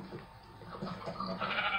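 Sheep bleating in Minecraft, a few short wavering bleats rising in level toward the end, close and alone with no talk.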